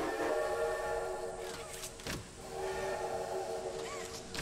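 A train horn pulled in the video game Poppy Playtime Chapter 2 blares as a sustained, loud tonal blast, briefly interrupted midway before sounding again, with faint game ambience underneath.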